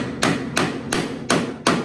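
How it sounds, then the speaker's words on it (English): Five sharp, evenly spaced hammer taps ring out as a handmade replacement panel is tapped into place to match contours, each strike crisp and close with brief decay between. "And you can hammer it into place."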